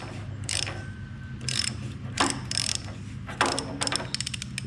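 A hand ratchet tightens a suspension nut on a C10 pickup's steering linkage: several short bursts of rapid clicking close by, separated by brief pauses.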